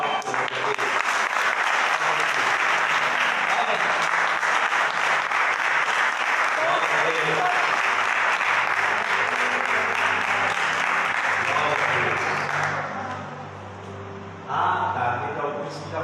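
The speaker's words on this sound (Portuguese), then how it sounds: "Eu quero uma salva de palmas para vocês." Dense, loud applause from a large audience fills the space steadily for about twelve seconds, then thins and fades, with a final short burst of clapping at the end.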